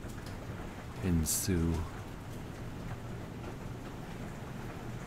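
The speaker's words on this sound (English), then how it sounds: "So we have an actual storm going on" Steady rain falls throughout a storm in a Roblox game, a continuous wash of raindrops under a brief burst of talking, with no distinct thunder crack standing out.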